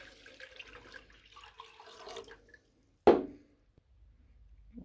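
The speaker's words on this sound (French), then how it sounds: "Bon je vais les remplir. Alors moi je vous conseille de mettre de l'eau chaude," Hot water runs and splashes into the tank of a 3-litre VEVOR ultrasonic cleaner, a soft trickling stream followed by a sudden louder gush and splash, then near silence.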